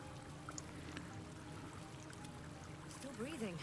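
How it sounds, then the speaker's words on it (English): Water pours from the restoration faucet at a pool in Baldur's Gate 3, a steady trickling stream beneath game ambience and a speaking voice, with musical tones rising near the end. "let's bring everybody into the pool and hit the restoration faucet"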